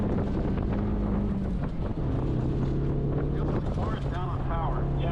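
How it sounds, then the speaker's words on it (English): Race car engine on a hill climb run, a steady droning tone that shifts pitch as it pulls, with wind buffeting the microphone, loud and continuous. "Just listen to the tone of the engine."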